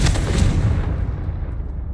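A fiery Confringo curse explodes in Hogwarts Legacy with a loud, deep boom that rolls out at once and then fades into a low rumbling tail.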